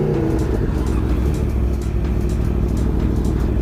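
A 2016 Aprilia Tuono Factory 1100 motorcycle engine drones loudly and continuously while riding, a dense steady rumble with slight rises in pitch.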